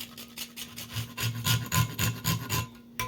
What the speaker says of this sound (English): Cinnamon stick. I'm going to grate this as well.